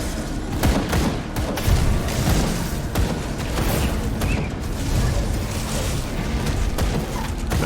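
Rapid gunfire and booming impacts in the Grim Dawn action RPG, dense and continuous across the whole stretch with bursts and pops layered over a rumbling low end.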